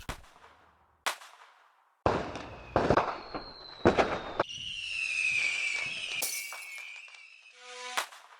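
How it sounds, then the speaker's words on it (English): Fireworks go off in several sharp, loud bangs, followed by a long rising whistle and a final crackling burst. "The fireworks, Chinese New Year sort of thing."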